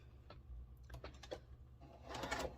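Quilt block fabric runs through a sewing machine in a short, quiet stretch of steady stitching with a low motor hum, picking up slightly toward the end.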